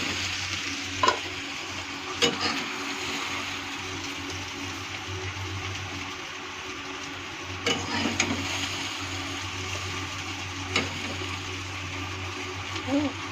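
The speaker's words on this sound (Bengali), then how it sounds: "আমার ভেন্ডি ভাজা কমপ্লিট" Okra frying in a pan sizzles steadily throughout, with a few sharp clinks and stirring scrapes at intervals and a low hum underneath.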